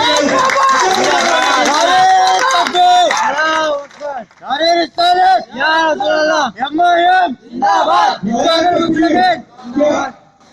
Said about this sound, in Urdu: نعرے بہت سارے ہو گئے ادھر سے